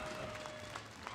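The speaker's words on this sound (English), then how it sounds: "give AP.Bren a big round of applause" Audience applause at an esports tournament match, brief dense clapping from a crowd, heard faintly at a distance with no talking.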